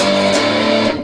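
An electric guitar plays the palm-muted intro riff, a dense, driven chug with a couple of choppy accents, loud and close with no talking.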